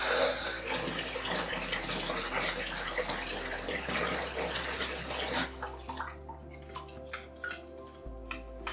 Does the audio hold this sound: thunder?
no